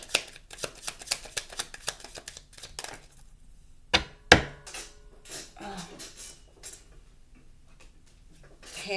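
A hand of playing cards being shuffled: a quick run of crisp ticking riffles, then a couple of sharper snaps and softer rustling, close and fairly quiet.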